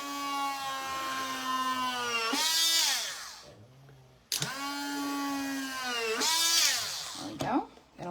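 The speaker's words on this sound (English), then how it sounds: "and then we're gonna drill our Frisbee" A power drill bores into a plastic Frisbee during a floor-toy glider build, whining in two long sustained bursts whose pitch sags and rises as the bit bites, loud and close with a short pause between runs.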